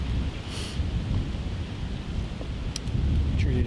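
Strong wind blowing across open public hunting land in Illinois during a rainy day, a loud continuous roar with gusty rumble and buffeting that fills the whole stretch, no voices.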